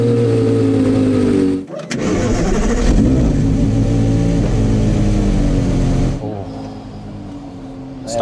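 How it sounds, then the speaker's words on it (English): The mid-mounted V10 of a Porsche Carrera GT cranks and fires. A brief starter whirr gives way to a loud, smooth revving roar that settles into a steadier, quieter idle, close by and without talking. "this has a V10 Formula One engine in the back"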